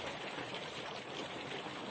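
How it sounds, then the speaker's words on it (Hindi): Rain beginning to fall, a steady broad hiss of light drops that stays even and moderately distant throughout, with no voices. "बारिश आ गया है"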